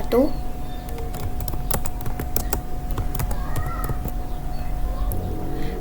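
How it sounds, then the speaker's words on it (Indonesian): A command being typed on a computer keyboard: a run of crisp, irregular key clicks spaced across several seconds, close to the microphone, with a voice briefly present and a faint steady hum underneath. "Saya akan ketik rmdir dir1."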